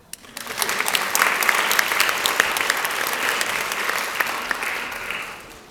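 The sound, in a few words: audience clapping for teacher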